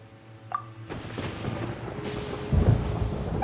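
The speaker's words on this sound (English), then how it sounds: "Paimon hears thunder!" Thunder rumbles through a Genshin Impact storm scene, with a deep rolling crash building and swelling loudly toward the end, alone without speech.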